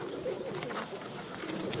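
Young pigeons in a dovecote in Boguchar coo softly and continuously in the near background, with no voices.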